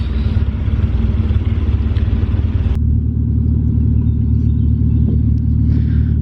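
Two cars idling and roaring together after a jump start, one smoky with an exhaust leak, a loud steady low rumble close by that drops slightly in intensity partway through, no talk.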